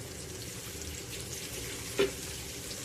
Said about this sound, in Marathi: तर आता मी दोन पापलेट फ्राय करायला ठेवले